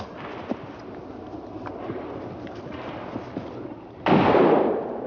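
Street fighting in Saigon between a private army and government troops brings scattered gunfire pops and cracks at a distance, then a heavier sustained burst of firing and blasting near the end.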